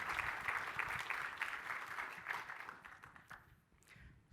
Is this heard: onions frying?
no